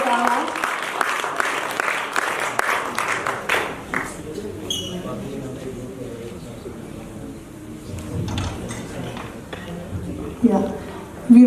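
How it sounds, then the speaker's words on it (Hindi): An audience claps loudly at a theater festival prize distribution, a dense burst of applause that fades within a few seconds, then talk continues over a quiet background. "ताली बजाने का मन है तो जोरदार मेरे लिए भी बजा दीजिए"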